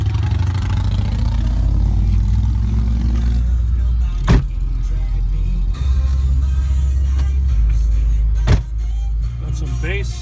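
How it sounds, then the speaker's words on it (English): A 2003 Pontiac Bonneville SE with a 3.8 V6 engine on a test drive, heard from inside the cabin as a steady low engine and road drone with a couple of brief thumps, while someone talks over it. "Engine doesn't seem to skip a beat."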